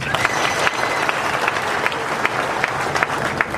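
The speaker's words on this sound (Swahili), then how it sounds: "Mpigeni makofi" A crowd at a political rally claps loudly and continuously, a dense roar of applause sustained for several seconds.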